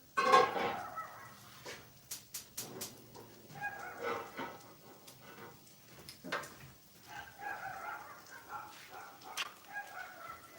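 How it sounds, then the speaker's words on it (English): A dog barks again and again somewhere outside, fairly distant and faint, in uneven bursts of yelps and cries over about ten seconds with short quiet gaps between them. "it sounds like my dog is having a war out there."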